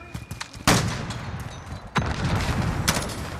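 Shotgun blasts in Call of Duty: Modern Warfare, three sharp loud booms spaced about a second apart over a constant background of battle noise.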